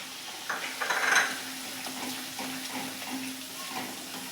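Capsicum peppers frying in hot oil with softened onions for pav bhaji, a steady close sizzle with occasional stirring scrapes in the pan, briefly louder near the start and then settling into an even crackle.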